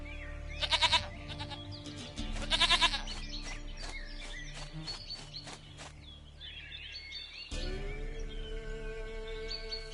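Goat bleats from The Witcher 3, with two loud, trembling bleats early on and a third, longer call near the end, set against a quiet outdoor game ambience with faint bird calls and clicks.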